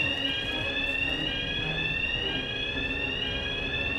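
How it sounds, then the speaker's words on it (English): A fire alarm rings inside a PS5 video game as a steady, continuous electronic tone with layered pitches, holding at an even level for the full stretch over low game background noise. "So it sounds like the fire alarm went off again."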